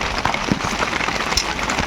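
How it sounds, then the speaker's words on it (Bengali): Steady rain patters outside a village home during a storm, a dense, even hiss of drops with occasional heavier taps, continuous and fairly close throughout. "আর বাইরে দেখো বৃষ্টি পড়ছে, সাউন্ড আসছে।"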